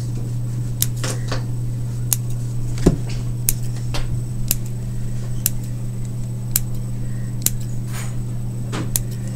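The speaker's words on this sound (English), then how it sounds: "Next you take your scissors and you snip little branches, little leaves." Scissors snip little branches and leaves while making tree ornaments, with crisp, separate cuts at an irregular pace over a steady low hum.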